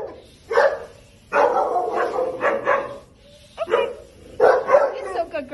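Dogs barking in short bursts of yips and barks, fairly close, with pauses between and a voice talking alongside.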